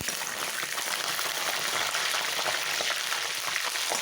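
Green chillies, dried red chillies and curry leaves sautéing in oil in a pan for a South Indian okra tamarind dish, a soft continuous sizzle with light crackle, steady and fairly quiet throughout.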